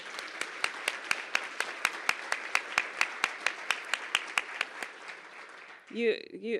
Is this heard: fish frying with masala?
no